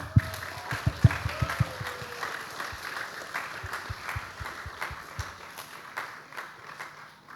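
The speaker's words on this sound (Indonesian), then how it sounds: "sekali lagi kita kasih aplaus buat mereka" A congregation applauding during a church worship service, a steady patter of many hands clapping in a reverberant hall that thins out toward the end, moderately distant with faint voices.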